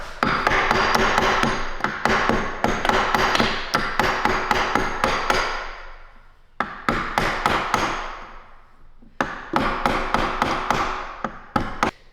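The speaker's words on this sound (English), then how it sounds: "Let's see if we can just hit it with a hammer" Repeated hammer blows strike a machine pulley stuck on its threads, loud sharp metallic knocks in fast bursts with two brief pauses, alone without talk.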